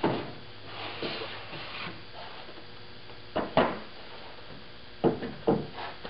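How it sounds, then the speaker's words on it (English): A wooden desk drawer is pulled out of a desk with a secret compartment, giving soft sliding scrapes and a few distinct wooden knocks and thumps in a quiet room. "So the first thing you got to do is pull out the drawer."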